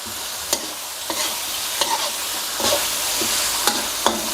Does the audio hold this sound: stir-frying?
yes